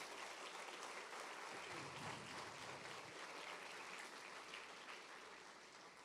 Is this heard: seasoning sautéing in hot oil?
no